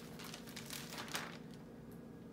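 Plastic packaging around a pair of shorts crinkles softly as the package is opened up close, a faint, continuous rustle with a few sharper crackles.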